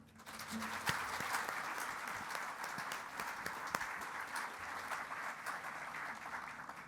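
Steady applause from a ceremony audience welcoming a young award recipient at a South Australian merit presentation, a dense even clapping wash sustained throughout, with a few sharper individual claps standing out.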